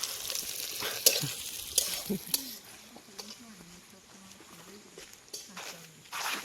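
Chicken and onions fry in a pan with a crackling sizzle and clattering stirs, while a person talks over the cooking at a moderate distance.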